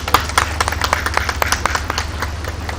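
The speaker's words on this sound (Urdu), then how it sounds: "ہم اس کو تالیاں بجا کر خراج تحسین پیش کریں" An audience applauds in tribute to Munnu Bhai at a Punjab event, a steady, dense patter of many hands clapping throughout, close and moderately loud with no talk over it.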